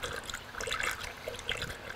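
Green coolant pours through a spill-free funnel into the radiator of an old Acura Vigor, a soft continuous trickle and splash of liquid heard close by with no talking.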